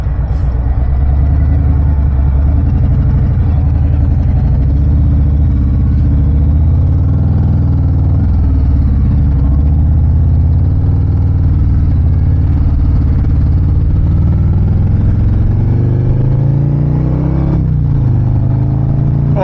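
A motorcycle engine hums steadily and loudly during a ride, its low drone holding with small shifts in pitch and no voices.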